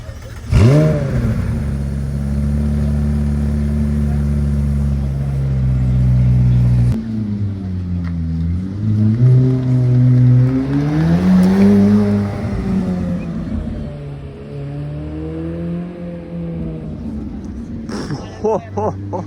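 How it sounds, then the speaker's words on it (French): McLaren Artura with a V6 engine pulling away on a road in Deauville, a loud, steady drone that swells and shifts in pitch as it accelerates past, with people talking nearby. "On entend un petit peu le V6."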